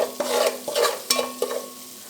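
Egg biryani base with turmeric, salt, chilli powder and garam masala being stirred in a hot pan, a few quick scraping strokes over a soft, even sizzle, near and brief.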